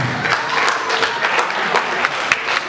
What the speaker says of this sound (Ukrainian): Галина Солодка, ваші оплески.